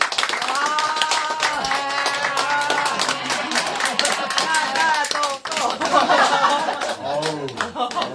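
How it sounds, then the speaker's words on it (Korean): An indoor audience at a climate lecture concert claps to welcome a singer onstage, steady scattered applause under continuous talk, with music-like tones mixed in. "여러분 박수로 맞아주시죠."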